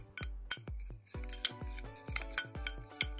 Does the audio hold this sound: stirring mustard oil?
yes